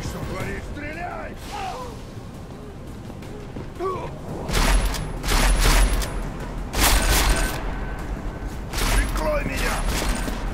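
Gunfire in the video game Deus Ex: Mankind Divided, with several loud bursts and impacts from mid-clip onward over a busy game soundscape, following a short stretch of quieter game ambience and muffled voices.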